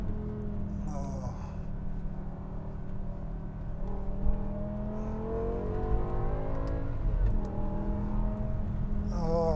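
BMW E60 M5 with its V10 engine accelerating, a steady rising engine note that holds strongly throughout, with short bursts of speech over it.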